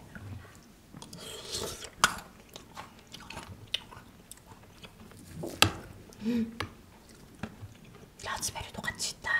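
Someone eats a snack mixed with chocolate balls up close, with crunchy bites and chewing in irregular bursts and soft voices between mouthfuls.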